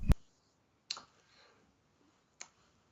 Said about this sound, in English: Jason Lee's asking if anyone else is hearing clicking when I talk